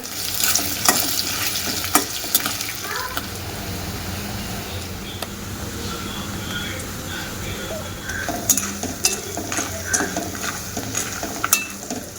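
Tempering sizzles and fries in a pan for pulihora tamarind rice, with a steady crackle broken by sharp clinks of a spoon stirring against the metal, and a voice faintly heard at moments.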